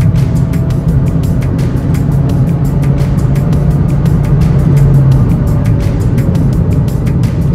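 A Mazda 3 engine groans at about 3,000 RPM while driving, a loud steady low drone with road rumble and faint rhythmic ticking, close and continuous, no talking.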